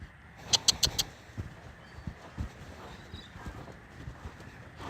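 Steady hoof thuds from a horse trotting in a circle on the lunge on soft ground, a rhythmic muffled beat with a few brief bird chirps near the start.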